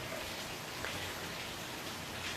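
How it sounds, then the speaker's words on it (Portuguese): Rain falling outside a window, heard as a steady, soft, even hiss with no breaks and no voices. "o barulho da chuva não atrapalhar"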